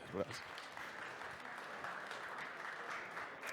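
Audience at a Red Bull Basement national finals event at TechChill applauding to welcome a speaker, a faint, continuous wash of clapping with a brief voice at the start.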